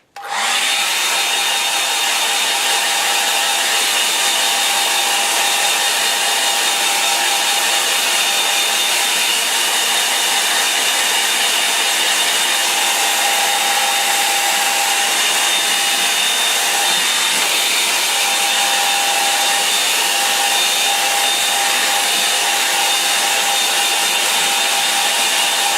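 A hair dryer blows onto a watercolour painting of boats on a Suffolk beach, giving a loud, steady whooshing whine that starts abruptly and holds constant for the whole stretch with no talking.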